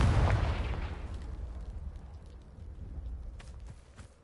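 Confringo fire spell blast in the video game Hogwarts Legacy, a loud explosive boom at the start that decays into a long rumbling, crackling tail and fades over about four seconds.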